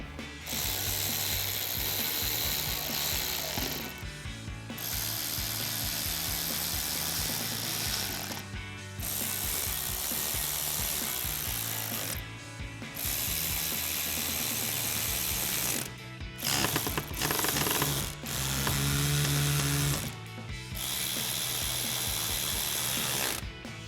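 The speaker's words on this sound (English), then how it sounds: "And we'll tighten them all down with our 7mm socket." Ratchet with a 7mm socket clicking rapidly in repeated bursts while tightening bolts during a 2015-2022 Mustang headlight install, close and clear with short pauses between runs.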